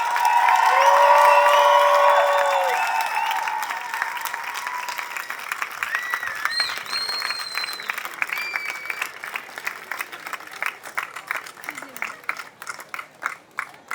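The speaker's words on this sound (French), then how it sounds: "Un tonnerre d'applaudissements, s'il vous plaît." Large outdoor crowd applauding and cheering at a Pride march in Montpellier, with loud sustained clapping and whoops that gradually thin into scattered claps, under some voices.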